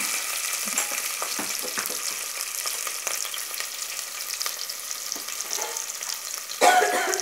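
Green chillies frying in hot oil for vegetable biryani, a steady close sizzle broken by repeated spoon-stirring clicks and scrapes, with a louder scrape near the end and no voices.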